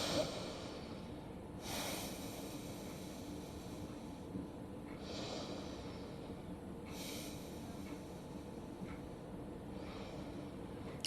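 Slow, deep breaths during a prenatal yoga stretch for the lower back, three long airy exhales spaced a few seconds apart over a soft steady background.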